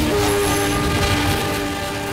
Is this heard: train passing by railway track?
yes